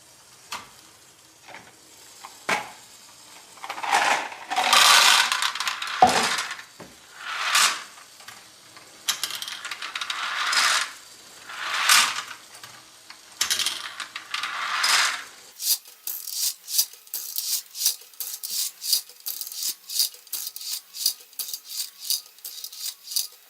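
Small balls clatter and roll through a plastic tipper module of a Great Ball Contraption marble run, with scattered clicks and rattles that turn into a fast, steady run of clicking near the end.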